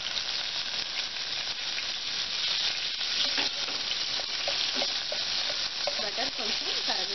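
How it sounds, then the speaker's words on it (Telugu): Butter and a spoon of oil melt in a pan with a continuous bright sizzle and hiss, while a utensil stirs through it with soft repeated scraping; no one speaks. "వెన్నంతా కరిగే వరకు కలుపుకొని వెన్న కరిగిన తర్వాత"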